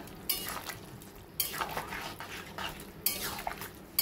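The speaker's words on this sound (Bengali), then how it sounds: "भालो करे मिशिए नेब लंकार गुঁড়োটা" A spoon stirs Kashmiri chili powder and broken green chilies in a pan for a vegetarian asafoetida pickle, with three bursts of close scraping and rustling separated by quieter pauses, no voices.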